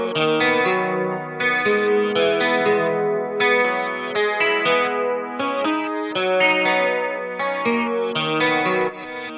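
An electric guitar plays chords and melodic lines with a shimmering, doubled chorus effect in FL Studio, steady and fairly loud throughout with no voices.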